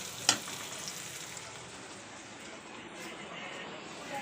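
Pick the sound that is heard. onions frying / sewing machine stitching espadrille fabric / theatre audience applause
onions frying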